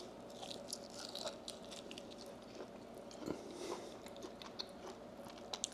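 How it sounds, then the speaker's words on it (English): Crunchy pellet-grilled chicken wings dipped in sauce are chewed close up, with soft, steady crunching and biting sounds and no talking. "My chewing is probably obnoxious,"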